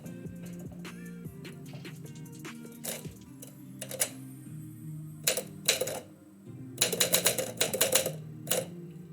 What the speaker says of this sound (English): You get to see more typing, you get to see more typewriter